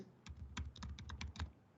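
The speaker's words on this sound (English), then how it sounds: "if I want to type my content" Rapid keystrokes on a computer keyboard while entering basic HTML content, about eight to ten distinct clicky taps over under two seconds in an uneven rhythm, close and moderately loud with no talking.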